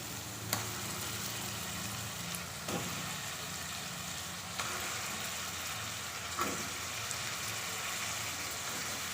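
Chicken meat frying in a pan for a malai handi, a steady broadband sizzle with a few sharp crackles and spits standing out, close and continuous with no talking.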